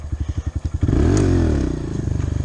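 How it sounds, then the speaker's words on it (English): A motorcycle does a burnout, starting with a choppy, pulsing engine note before the rear wheel spins up into a loud, sustained roar with scraping, close and alone. "That was a burnout, not a wheelie"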